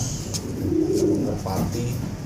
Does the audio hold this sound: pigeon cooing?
yes